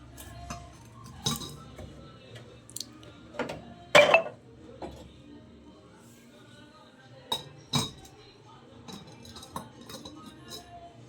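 A bowl and dishes clink in a home kitchen while eggs are handled, with scattered light, sharp chinks and taps, one louder clatter among them, fairly quiet overall as a person talks.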